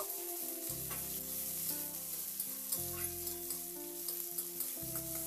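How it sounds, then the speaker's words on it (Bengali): Chopped onion sizzles steadily in a hot pan while being stirred for a Bengali flat bean (shim) fry, with a soft tonal background of music running throughout. "এবার পেঁয়াজটা দিয়ে নাড়াচাড়া করে একটু ভেজে নেব"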